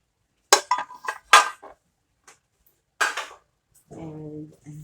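A metal baking pan being tapped and knocked to spread a flour coating: several sharp clanking raps in quick clusters, then a brief ringing metallic resonance, close by with no talking.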